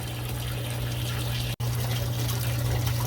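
Water from a pump sprays and trickles into an aquaponics fish tank, a loud steady rushing wash with a low hum, broken once by a split-second dropout midway.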